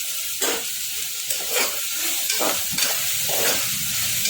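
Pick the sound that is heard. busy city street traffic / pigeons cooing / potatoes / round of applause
potatoes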